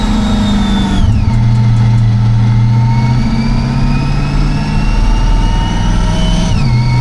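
Supercharged 700hp C8 Corvette runs hard on a dyno, a loud engine climbing through the revs with clear shifts where pitch drops and then rises again, a continuous close roar and whine.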